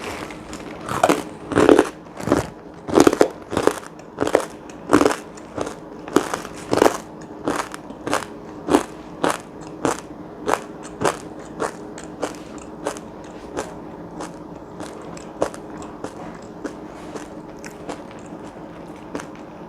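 Warneng, a crunchy corn snack, is bitten and chewed close to the microphone, producing a long series of sharp, loud crunches at a steady rhythm that gradually grow softer and denser, with no talking.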